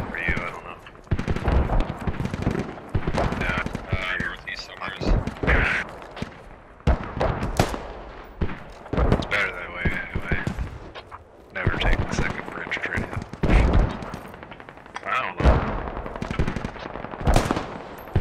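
Bursts of automatic rifle and machine-gun fire in the military shooter Squad crack out repeatedly, some close and some farther off. Players talk and call out over the shooting.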